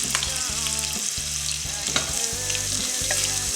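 Celery and onions fry in butter in a pan, a loud, steady sizzle with bright crackling and a few stirring scrapes, close up and with no talking.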